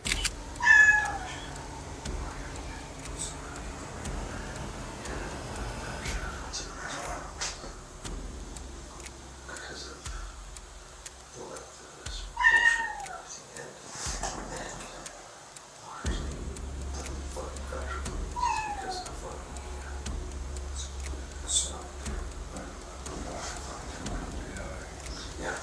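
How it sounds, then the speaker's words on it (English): A stray cat outdoors meows repeatedly in the distance, with several drawn-out, rising cries spaced across a quiet night backdrop. A narrator's voice runs over and between the calls. "the air outside silent except for a stray cat meowing in the distance"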